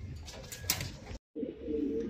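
Pigeons in a racing loft coo in a low, soft murmur, a brief break of near silence interrupting the steady cooing.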